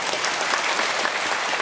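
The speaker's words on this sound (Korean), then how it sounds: "정답. 박수 한번." A church audience at a feast-day Mass applauds after a correct quiz answer, with dense, even clapping from many people filling the short moment.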